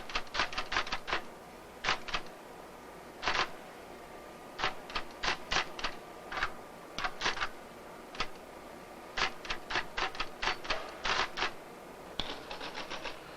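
Irregular bursts of crisp key clicks from a 1967 computer terminal keyboard being typed on, quick clusters separated by short pauses, fairly quiet over a steady low hum in a room.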